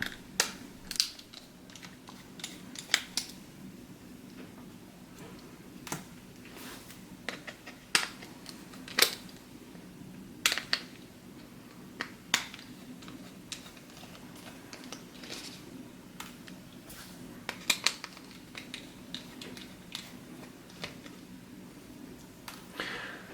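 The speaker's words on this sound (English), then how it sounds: "you will see 4 more Phillips head screws. Just go ahead and remove them" Small Phillips head screws being backed out of a Nintendo DS Lite handheld console, giving faint repeated clicks and ticks of a tiny screwdriver and plastic handling, close and quiet with no talking.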